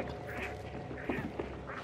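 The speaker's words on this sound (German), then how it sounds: "Da wurden Enten aufgescheucht" Startled ducks quack in a short burst of several calls in the Hunt: Showdown video game, fairly close and clear over a low ambient background.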